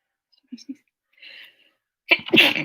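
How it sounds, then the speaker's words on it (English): A few soft sharp inhales build up, then a single loud, close sneeze bursts out at the end. "gonna sneeze."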